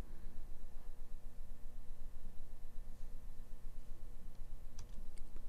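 A few sharp computer mouse clicks near the end over a steady background hum, brief and moderately close, with the device otherwise quiet.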